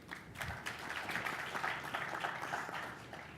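A conference audience applauds a speaker being introduced, a soft, steady patter of many hands clapping at a distance for a few seconds.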